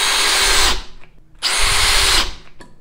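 A Makita drill with a mechanical clutch on clutch setting 3 drives a screw into wood in two loud, close bursts of whirring motor noise. Each burst stops abruptly, with a brief pause between them.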